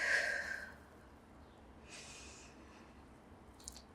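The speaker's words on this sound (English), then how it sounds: "Take a big breath in. An even bigger breath back out." One big, breathy exhale during a yoga low lunge in a lower-body flow, loud and close at first and fading within a second, followed by softer, faint breaths.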